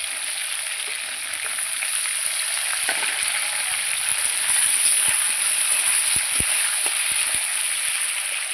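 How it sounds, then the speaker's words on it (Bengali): Potatoes and flat beans fry together in oil, a loud, dense, continuous sizzle like heavy rain, with a few faint stirring knocks beneath it. "আলু আর সিমটা একসঙ্গে আমি ভেজে নেবো"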